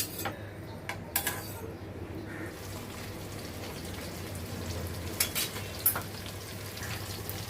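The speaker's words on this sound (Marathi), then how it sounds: "पाच मिनटं आपल्याला एक बाजू चांगली खरपूस अशी शेकून घ्यायची" Chicken burger patties frying in a pan over low to medium heat, a soft steady sizzle with a few brief clicks and taps from utensils, fairly quiet and without talk.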